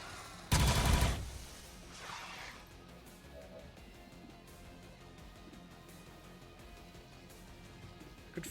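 A single loud burst of gunfire in XCOM 2 rings out near the start, followed by a fainter impact and then a low, quiet game ambience for the rest.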